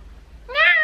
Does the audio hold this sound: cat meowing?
yes